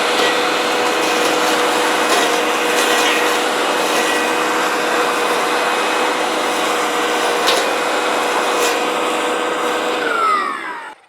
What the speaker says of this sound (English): And that's where this brush cutter comes in handy. It takes out this stuff pretty effortlessly,